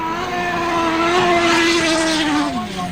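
Grasstrack motorcycle racing at a 2003 Salisbury meeting, a loud, close engine howl holding a steady pitch then dropping as the bikes pass, with layered engines behind.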